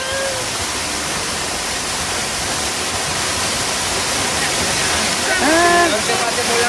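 Steady, loud roar of a waterfall in a canyon near Granada, Spain, a continuous broadband rush filling the scene, with a few brief bird-like chirps rising near the end.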